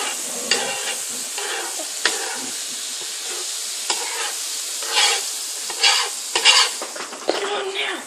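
Butter cooking in a pan in a home kitchen, a sizzling hiss with intermittent clicks and scrapes of a utensil stirring, louder clattering toward the end, no voices.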